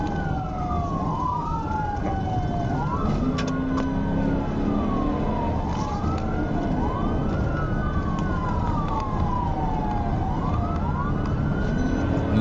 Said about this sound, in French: L'agent a actionné la sirène, déclenchant officiellement la poursuite.